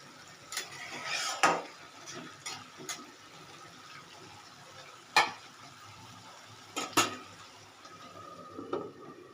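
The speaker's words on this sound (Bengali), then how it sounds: "আর একটু ঢাকা দিয়ে আর একটু ভাজতে হবে।" Cabbage and prawns fry in a pan with a faint steady sizzle, punctuated by several sharp clinks and scrapes of a utensil against the pan at irregular intervals.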